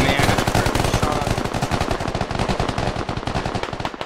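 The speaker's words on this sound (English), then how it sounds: "Shots being traded here" Heavy gunfire is traded in the tactical shooter game Squad: loud, dense rapid bursts of automatic fire that overlap almost without a break, with no voices.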